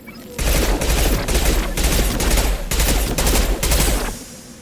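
Rapid automatic gunfire from a weapon in Mass Effect 2, loud and close, in several sustained bursts separated by brief pauses before cutting off near the end.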